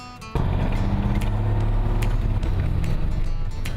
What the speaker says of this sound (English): the even more reliable sound of a delivery truck